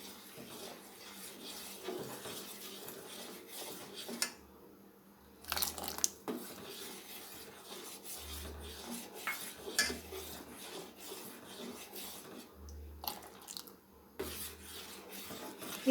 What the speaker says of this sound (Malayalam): കുറേശ്ശെ ചേർത്ത് കൊടുത്തിട്ട് ഇളക്കി എടുക്കണം.